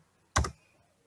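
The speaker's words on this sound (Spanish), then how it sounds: "y le damos al Enter de nuestro teclado" A single crisp keypress on a computer keyboard, the Enter key struck once, sharp and close, then quiet.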